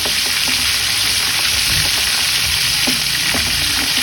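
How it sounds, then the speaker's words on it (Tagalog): Loud, steady sizzling and crackling of milkfish frying in hot oil, close up, with occasional small pops. "Kumukulo na nga yung mantika, inilagay ko na nga itong mga bangus."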